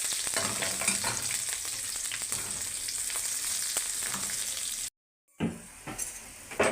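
Onion and green chili frying in oil with Bengali five-spice and bay leaf in a pan, producing a loud, continuous close sizzle with stirring scrapes that cuts out briefly, then resumes.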